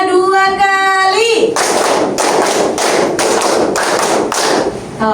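A class clapping a set rhythm, five claps done twice, sharp loud hand claps in a quick pattern with short gaps between them, following a brief sung or spoken lead-in from a teacher.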